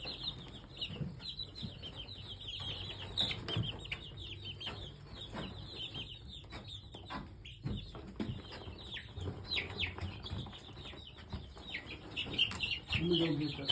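Young chickens newly hatched on a farm cheep and cluck in steady high chirps close to the microphone, with handling noises and voices talking over them.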